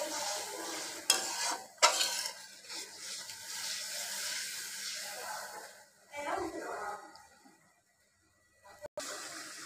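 Spice paste for mustard hilsa being sautéed and stirred in a pan, with soft sizzling and intermittent scraping strokes, fairly quiet, trailing into near silence before a final clatter; a voice is briefly heard.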